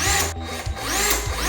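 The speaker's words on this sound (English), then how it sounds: "Yes, I am using a power drill on a PC." A power drill whirs in short, loud, close bursts while driving screws during a gaming PC build, its motor pitch rising and dipping between pulses.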